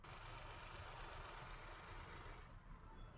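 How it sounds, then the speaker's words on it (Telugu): A 2024 Maruti Suzuki Swift LXI, the base variant, idles with a steady, smooth low hum and slight vibration, continuous and close, with no talking. "ఒకసారి ఇంజన్ సౌండ్ కూడా వినిపిస్తాను చూడండి."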